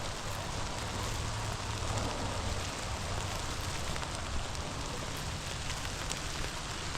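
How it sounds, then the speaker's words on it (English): Rain falls steadily around a hiker in a nature preserve in January, a dense, even patter and hiss filling the whole stretch at a moderate, constant level with no voices. "the rain's starting to come down a little harder."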